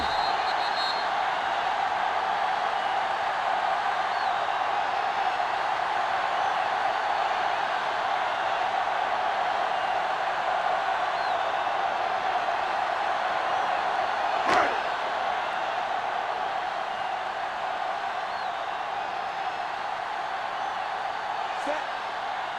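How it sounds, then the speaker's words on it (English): Steady crowd roar from a football video game stadium after a touchdown in a Green Bay road matchup, a continuous broad wash of cheering with a brief sharp hit midway and another near the end. "The crowd's into it."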